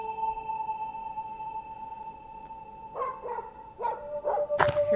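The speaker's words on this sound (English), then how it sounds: "Hear a dog." A dog barking in the video game Bad Dream: Cyclops, several short barks in the last two seconds over a steady droning tone, the final one loudest.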